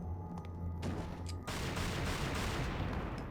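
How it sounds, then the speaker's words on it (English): Shotgun or rocket launcher fire in the video game Devil May Cry 2, a dense, sustained burst of loud blasts that grows heavier and more continuous after a brief lighter opening, with no talking. "When you have the shotgun or the rocket launcher."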